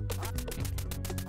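Rapid series of nasal duck quacks from the Duck Hunt character in a Super Smash Bros. video game, repeated quickly and loud in the foreground with no voices.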